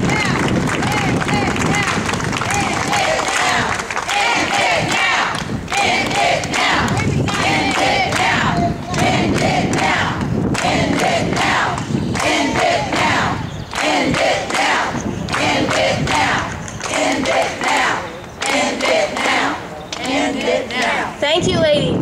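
A rally crowd fills the space with sustained cheering, shouting and clapping, loud and dense for the whole stretch, with voices surging and dipping in waves.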